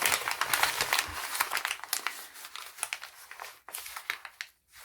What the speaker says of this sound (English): take this paper and crumple it up